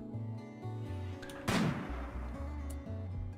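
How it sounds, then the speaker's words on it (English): A single loud gunshot blast rings out during a raid in the RimWorld video game, cutting through steady background game music and fading quickly. "Who's shooting right now?"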